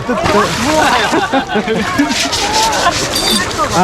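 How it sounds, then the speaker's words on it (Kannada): Water splashes and sloshes loudly, again and again, at Sakrebailu near Shivamogga, Karnataka, under several overlapping voices talking and calling out nearby. "ನೀರು ಹಾಕ್ತಿದ್ದೆ"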